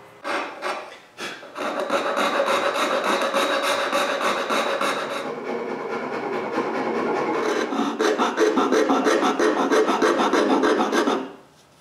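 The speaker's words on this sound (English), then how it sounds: "I need to finish the job with a coping saw and rasps" A coping saw and rasps shape wood for a fishing rod rack, producing close, continuous rough rasping and sawing strokes that run steadily for about ten seconds with no talking.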